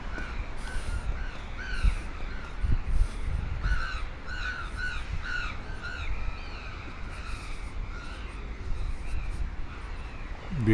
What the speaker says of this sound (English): Beautiful sound of birds.